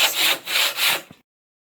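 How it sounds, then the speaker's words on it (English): Hand saw cutting wood for picnic bench seats, three rhythmic strokes back and forth, close and steady, ending with a small knock before silence. "This piece is being cut down to size for the 2 seats."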